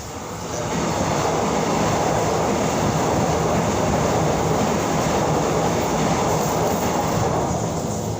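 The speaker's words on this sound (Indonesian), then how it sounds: "Maaf kereta lewat ya saudaraku ya." A train rumbles past steadily and loudly, a continuous roar of wheels on rails that holds for the whole stretch without a break.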